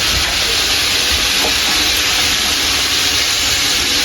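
Potatoes frying in a pan for a chicken kacchi biryani cooked for Durga Puja, a steady, loud hiss of hot oil that stays unbroken throughout with no talking.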